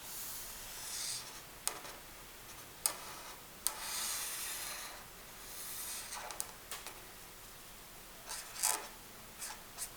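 Pencil or marker drawing an angelfish on paper, a quiet continuous scratchy rubbing with occasional sharp taps as the tip lifts and lands, close and faint with no talking.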